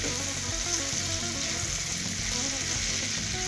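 Cabbage, potato and onion fry in a pan in a vegetarian cabbage dish, giving a steady, close sizzle with faint stirring scrapes and no talk.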